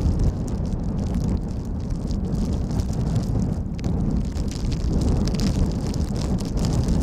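Wind and rain at Schiphol airport make a steady buffeting roar, with gusty wind noise hitting the microphone and a constant wet hiss, fairly loud throughout.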